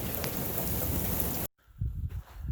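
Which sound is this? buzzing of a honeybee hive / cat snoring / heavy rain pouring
heavy rain pouring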